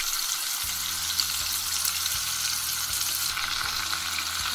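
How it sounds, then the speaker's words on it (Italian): Ingredients sautéing in a pan for pork sarciado, an even, moderately quiet sizzle running throughout with soft, regular stirring thumps underneath. "Facciamo soffriggere bene"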